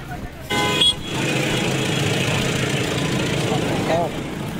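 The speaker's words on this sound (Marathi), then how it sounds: "आणि ही जी लागलेली आहे ट्रॅफिक बघा बघा" Busy road traffic in Mahabaleshwar hums with car and motorcycle engines close by, joined by brief horn toots near the start and end, while people talk over the steady traffic noise.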